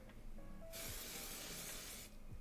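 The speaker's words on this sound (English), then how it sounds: "let me just spray it on my hand" A steady hiss of makeup setting spray sprayed onto a hand, lasting over a second, close by, with quieter background before and after.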